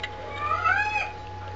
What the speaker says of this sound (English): if you heard my cat, or it's my cat in heat